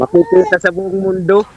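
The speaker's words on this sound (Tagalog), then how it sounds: "Narinig ko yung tunog ng ibon." Chicken or rooster-like bird calls ring out loud and close in a short burst, several clucking and crowing notes in quick succession, with a voice speaking alongside.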